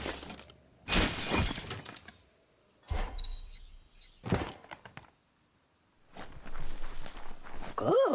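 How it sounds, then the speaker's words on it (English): A wooden box being smashed in the video game Biomutant, several bursts of crashing and splintering debris separated by near silence, loud and close with no talk. "You shouldn't worry about smashing up the box"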